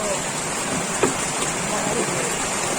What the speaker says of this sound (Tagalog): Ayan na naman ang ulan.